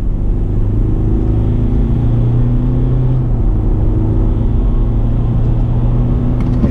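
A Mitsubishi Pajero Sport SUV with an 8-speed transmission accelerates hard from 0 to 100 km/h. Its engine drones loudly and steadily from inside the cabin, with the pitch rising and dropping as it shifts gears, and no one speaks.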